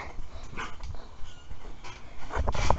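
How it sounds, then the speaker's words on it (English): Dog in a leafy backyard with a trampoline, giving short scattered yips and barks amid rustling outdoor noise, fairly close, with a couple of sharper vocal bursts near the end. "Yeah, so that's my dog, Otis."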